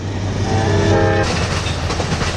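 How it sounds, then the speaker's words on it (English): A train passes close to a campsite at sunset, a loud steady rumble with a sustained horn blast early on, then continuing rolling noise without talk. "the train's just going by now"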